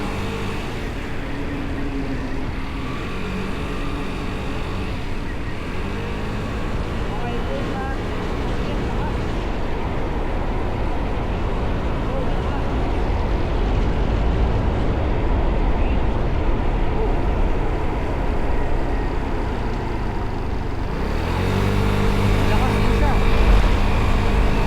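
Lambretta X300 Special 300cc scooter engine on a test ride, a steady loud hum with wind buffeting that swells as the rider opens the throttle, drops, and rises again near the end.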